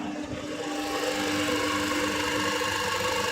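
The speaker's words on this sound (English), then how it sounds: "Motor running in reverse direction" An electric motor switched by a solid state relay runs in reverse with overload protection, giving a steady, close hum with a constant tonal whine and no pauses.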